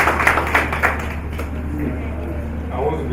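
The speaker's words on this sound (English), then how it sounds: "Please let's give him a round of applause" Audience applause at a book presentation, a burst of clapping from the crowd in the first second or so that thins out and fades under a steady room hum and murmur.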